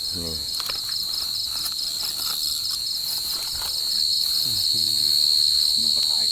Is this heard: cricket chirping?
yes